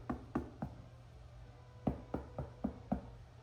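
Knuckles rapping on the hard crust of a freshly baked sourdough loaf, a run of dull, hollow knocks in two quick clusters, soft and close over a faint room hum.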